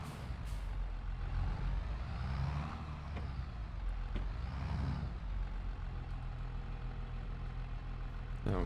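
In Farming Simulator 22, a tractor reverses with a rear-mounted mulcher. A steady engine drone runs throughout with a few sharp hissing bursts.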